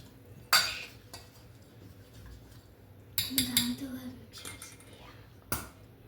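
Batter of crushed Oreo biscuits, baking powder, a pinch of soda and warm milk is stirred in a bowl, giving a few sharp utensil clinks against the bowl, then a quick run of scraping taps and a final clink, with low background noise.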